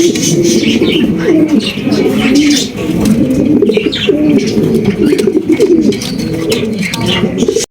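Several racing pigeons coo continuously and close by, their low throaty warbles overlapping in a dense, rolling chorus with faint chirps above.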